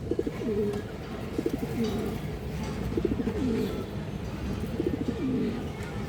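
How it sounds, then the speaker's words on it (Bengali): Silver pigeons, a running male and female pair, coo in repeated low rolling phrases at close range, with faint background noise and no speech. "খুবই সুন্দর সিলভার কবুতর"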